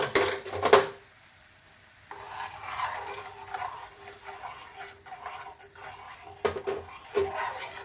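A spoon stirs green chili sabzi with milk gravy in a pot, giving soft scraping and clinking strokes over a faint simmer, close by with a couple of louder knocks against the pot.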